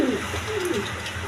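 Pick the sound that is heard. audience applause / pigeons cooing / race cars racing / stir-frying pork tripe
pigeons cooing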